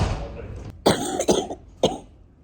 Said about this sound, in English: Dealing with CF lung coughing stuff since the pandemic is a whole new ballgame.